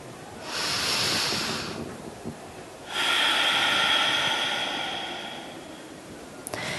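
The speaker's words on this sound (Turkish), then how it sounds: "ve derin bir nefes aldım." Two long, deep breaths, one drawn in and one let out slowly, airy and close to the mic, during a breathing exercise meant for a commute; no talking.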